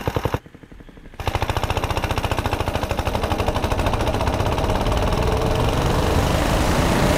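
A modified small engine runs with a rapid, hard, rhythmic popping exhaust. It starts after a brief pause and holds steady and loud. Someone says one short word at the start.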